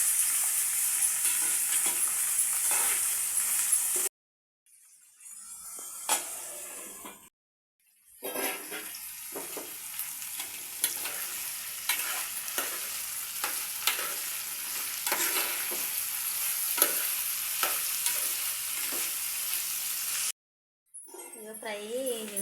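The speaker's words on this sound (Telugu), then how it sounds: "ఆవాలు గోలినవి చిక్కుడుకాయ వేసుకోవాలి" Broad beans dropped into hot oil with spluttered mustard seeds and cumin, frying loudly with a dense, continuous crackling sizzle near the mic, broken by brief silent gaps; a voice briefly speaks near the end.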